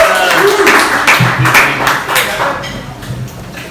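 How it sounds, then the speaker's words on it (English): An open mic comedy night audience applauds, giving steady, moderately loud clapping while a voice talks over it at the front. "Round of applause going, everybody."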